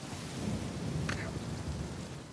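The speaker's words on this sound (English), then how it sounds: "Got puddles, we've got wind, we've got mist rain" Rain and thunder in the Uncharted 4 game, a dense, steady hiss of rainfall with a low rolling rumble underneath, continuous and fairly close throughout.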